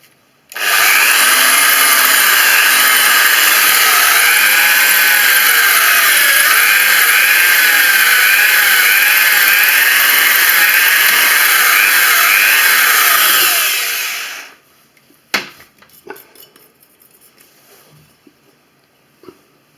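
A power drill bores a hole through ceramic tile resting on a wooden support, a loud, close, high grinding whine running steadily for about fourteen seconds before it cuts off, followed by a few light clatters and taps.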